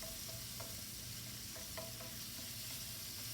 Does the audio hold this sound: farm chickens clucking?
no